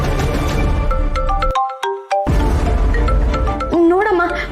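Mobile phone ringtone of an incoming call, a clear repeating melodic tone that plays loud and alone for a moment between stretches of drama dialogue and background music.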